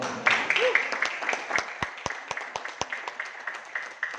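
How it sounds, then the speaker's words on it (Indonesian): Scattered clapping from a seminar audience at a network building training, a thin, uneven patter of hands that starts under a presenter's voice and continues on its own. "Aplaus buat para SC."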